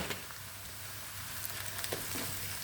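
Onion and crushed garlic sautéing in oil in a pan for meat sambusa, a continuous close, even sizzle with faint stirring scrapes near the end.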